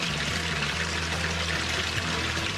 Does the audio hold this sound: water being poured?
yes